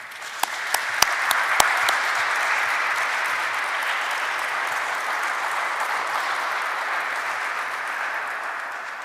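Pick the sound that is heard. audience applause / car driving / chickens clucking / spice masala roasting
audience applause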